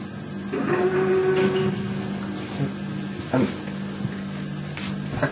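A lift platform moves in the first-person shooter Ultimate Doom, giving off a steady mechanical hum with a brief rising whine and a couple of soft clunks against constant game ambience.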